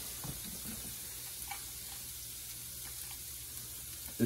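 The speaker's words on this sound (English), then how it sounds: "Should get a sizzle." Steady hissing sizzle of garlic and ginger frying in hot oil in a pan, a constant crackling wash with a few faint pops, no talking.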